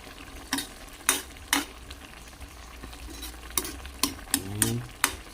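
Chopsuey vegetables, still firm before the patola goes in, get stirred in a hot pan, with a soft sizzle and several sharp spatula scrapes and clinks spaced a beat apart.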